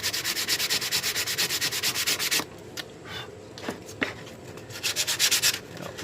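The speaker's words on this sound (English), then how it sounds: "While we're sanding this" Wood being sanded by hand, fast rhythmic back-and-forth rasping strokes for a couple of seconds, then a quieter stretch with a few isolated knocks and scrapes, then another burst of strokes, close up, no talk.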